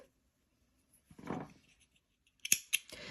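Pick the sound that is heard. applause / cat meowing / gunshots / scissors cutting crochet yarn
scissors cutting crochet yarn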